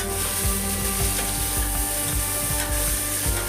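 Onions frying in oil in a pan for spicy tomato bath give a steady, close crackling sizzle, with a soft rhythmic scrape of stirring through it and no talk.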